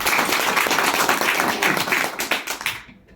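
An audience bursts into dense clapping, a loud close wash of many hands that fades out toward the end.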